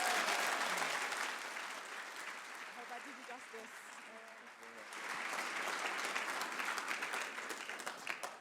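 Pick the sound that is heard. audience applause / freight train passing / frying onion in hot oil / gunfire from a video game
audience applause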